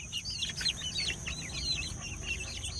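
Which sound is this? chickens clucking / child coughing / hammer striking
chickens clucking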